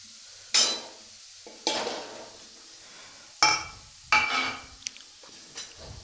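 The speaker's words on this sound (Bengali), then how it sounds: "এবার এই গাজরটাকে একটু নাড়িয়ে ছাড়িয়ে" Grated carrot with spices gets stirred in a pan in a few short scraping bursts, each a quick clatter of utensil on metal with faint sizzling between, close and otherwise quiet.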